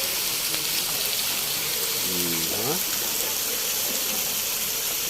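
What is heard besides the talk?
waterfall water gushing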